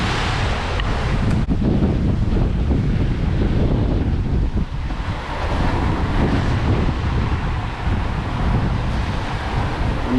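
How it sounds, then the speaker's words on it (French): Strong wind roars steadily across the microphone on a sailboat at sea in about 25 knots, with the mainsail reefed and full jib, as waves wash and rumble around the hull throughout, loud and continuous with no talking. "Et on a grosso modo 25 nœuds de vent, on a le fol complet."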